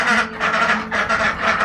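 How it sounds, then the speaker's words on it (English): Ducks quacking loudly and repeatedly up close in a rhythmic series of harsh calls, heard alone without talk. "They're gonna start quacking when I open this door."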